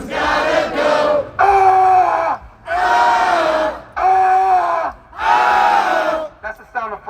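A crowd letting out repeated drawn-out yells of frustration at a Black Lives Matter protest, five loud sustained group shouts separated by short pauses, close and powerful.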